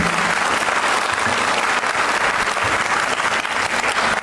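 Loud, dense audience applause at a Republic Day event for the central ministry, honouring Rashtriya Gokul Mission beneficiaries of the animal husbandry department, steady and unbroken throughout with no talk over it.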